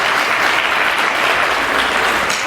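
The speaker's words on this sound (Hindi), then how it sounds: "ताली बजाओ।" Loud, dense clapping from a crowd of people, sustained evenly from start to finish as a continuous wash of hand claps close by.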